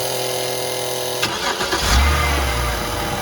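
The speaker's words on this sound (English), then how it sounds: "Okay, you can start the engine again." A BMW car engine with a ZF6HP transmission cranks briefly and catches, then settles into a low, steady idle after a background hum. It is close and fairly loud, with no talking.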